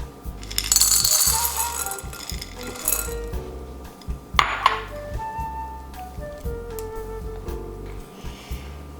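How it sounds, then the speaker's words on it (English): Chocolate chips tumble from a package into a mixing bowl, a bright rattling clatter of many small pieces, loud at first and then thinning into scattered clinks close by. "First, we're gonna add in our chocolate chips into our mixing bowl."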